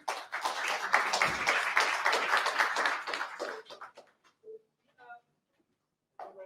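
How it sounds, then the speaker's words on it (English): Audience applause for a startup pitch at an evening competition, a burst of clapping that lasts about four seconds, then dies away into scattered taps and brief faint sounds. "Big applause for him."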